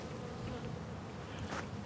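Honey bees buzz continuously at a hive on a mild winter day, a dense steady hum up close with no talking.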